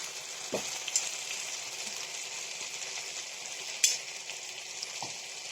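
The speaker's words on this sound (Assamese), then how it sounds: "মই এনেকৈ আলুখিনি দি অলপমান ভাজিম" Raw potato pieces fry alongside local chicken in a buttery pan, a constant close sizzle with a few sharp clinks and scrapes of a utensil, no voices.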